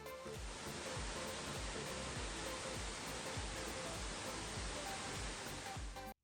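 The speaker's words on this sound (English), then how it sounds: "home to the nearly 300-foot Rio Celeste Falls." The nearly 300-foot Rio Celeste Falls in a Costa Rican national park, where brilliant blue water plunges in a steady, loud, unbroken roar of rushing water that fills the whole stretch with no voices.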